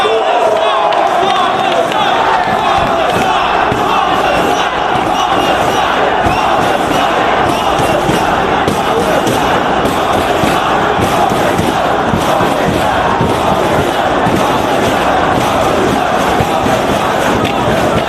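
Loud, dense wrestling crowd roaring and chanting steadily for Homicide at a Ring of Honor event, a continuous wall of cheers and shouts with no break for the whole stretch.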